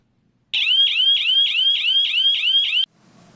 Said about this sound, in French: L'eau pénètre dans le boîtier, qui déclenche le capteur et qui fait sonner l'alarme ou le téléphone dans la maison